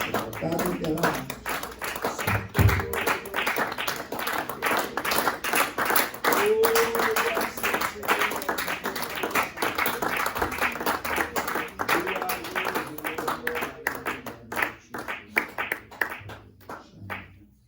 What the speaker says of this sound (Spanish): Dele un fuerte aplauso al Señor, hermanos.